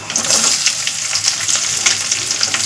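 Onions and green chillies hit hot oil with curry leaves in a pan for fried rice, giving a loud, steady sizzle and crackle with faint stirring scrapes throughout, no voices.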